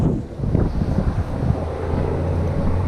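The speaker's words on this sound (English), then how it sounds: "Man, the wind has picked up like nobody's business." Strong wind buffets the microphone on a fishing boat out on the water, a steady loud roar with gusty low rumbling throughout and no voices.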